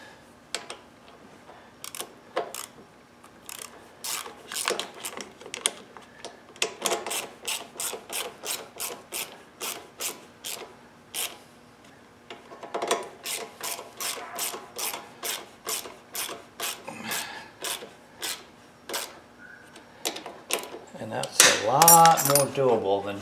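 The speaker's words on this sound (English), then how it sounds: "And now we can tighten these down." Honda GCV carburetor mounting nuts being tightened down with a ratchet: a long series of sharp, close clicking bursts in uneven runs, ending with a brief clatter of metal.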